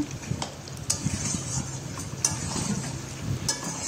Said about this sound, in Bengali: চিকেনটা ভালো করে আর একটু কষিয়ে নিচ্ছি।